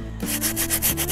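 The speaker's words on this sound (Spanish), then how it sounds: "Ahora simplemente con una lija" Short back-and-forth strokes of sandpaper rubbing a cement flowerpot, a brisk scratchy rasp repeating several times up close.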